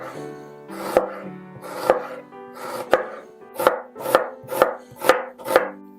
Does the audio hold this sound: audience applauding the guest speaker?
no